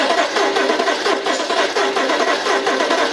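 The engine of a BMW X6 M with a misfire is cranked over during a compression test, giving a steady, loud, rhythmic churning throughout with no talk.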